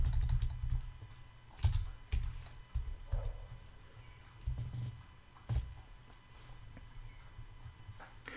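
Keys tapped on a computer keyboard in irregular bursts, close and fairly quiet, with a few heavier keystrokes standing out.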